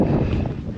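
Strong wind blows across an open spot at Bütgenbach lake, buffeting the microphone with a loud, rough, low rumble that fills the short moment with no voice on top.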